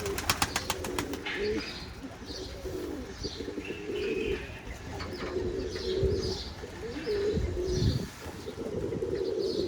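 Pigeons, including a white tumbling pigeon, coo in repeated soft throaty phrases nearby, with a brief flutter of wings at the start and faint chirps mixed in.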